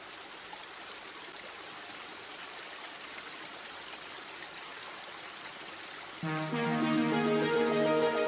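Flowing water at the bank of the River Ganga, a steady soft wash of a stream that runs evenly, with a brighter burst of sound layered over it in the final two seconds.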